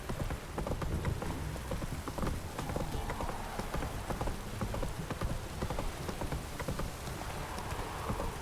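Geralt's horse Roach trotting in The Witcher 3, a steady, close clip-clop of hooves with a soft rain-like patter underneath, continuing evenly throughout.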